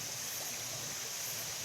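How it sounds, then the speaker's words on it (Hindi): Water pouring steadily at a waterfall beside a newly built barrier that holds back the flow, a broad hissing rush that continues evenly without pause and without voices. "आगे झरना बह रहा है"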